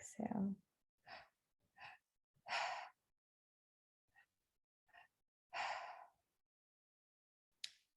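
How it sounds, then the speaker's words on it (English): Guided deep breathing, with several separate breaths drawn in and pushed out in a slow rhythm, close and soft, with near silence between them. "Inhale, inhale, exhale. Belly, chest, exhale."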